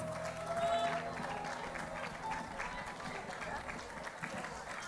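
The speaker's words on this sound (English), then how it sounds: "Give them a round of applause," A Women's Day event audience claps steadily in sustained applause, a dense crowd sound lasting several seconds.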